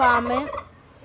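A turkey at a small poultry farm lets out one loud, close gobble that warbles briefly and then fades into quiet.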